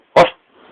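A human voice imitates a single dog bark, one sharp loud yap followed by a faint breathy trailing sound.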